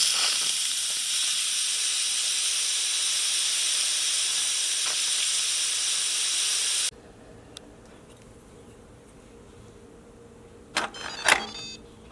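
Instant Pot on quick release after cooking dal rasam vents steam in a loud, steady hiss that cuts off abruptly, followed by quiet room tone and a few short clicks and clatters.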